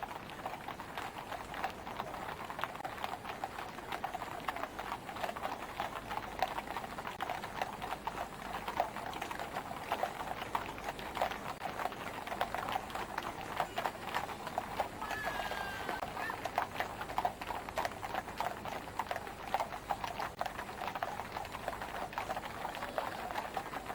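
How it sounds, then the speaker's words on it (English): A steady patter of hooves clops on a hard road throughout, many horses at a walking pace, fairly distant and quiet amid a faint outdoor hush, during Princess Diana's funeral procession in 1997. "This is quite extraordinary, just the sound of horses' hooves."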